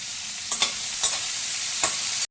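Onion, capsicum and carrot stir-fried briefly in a pan for chilli paneer, giving a steady close sizzle broken by three quick scraping stirs before it cuts off.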